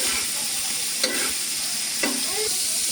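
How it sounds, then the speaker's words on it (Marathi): Shallow frying with salt and masala paste in a pan, a continuous close sizzle with a couple of brief scraping stirs, no voices. "आता याला मी चांगलं पुन्हा परत असं फ्राय करते, शॅलो फ्राय"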